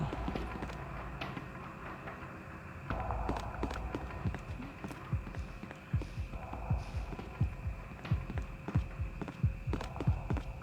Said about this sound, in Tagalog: malakas na naman yung heartbeat ng natin, yung bata natin